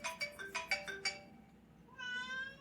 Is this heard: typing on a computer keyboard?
no